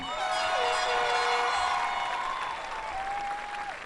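Applause and cheering for service members at a 2014 high school graduation, a dense wash of crowd clapping with sustained whistles and whoops riding over it, steady and moderately distant.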